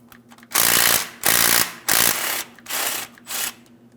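A ratchet backs out a 10mm-headed mounting bolt on the camshaft position sensor of a 2007-2014 GMC Sierra 2500 HD with a 6.0L V8, giving five close, loud bursts of rapid clicking separated by short pauses.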